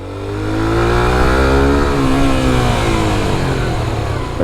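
A Suzuki GSX-R 150 motorcycle accelerates under the rider, its engine note rising steadily in pitch and holding a loud, smooth drone close to the listener.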